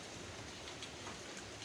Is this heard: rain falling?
yes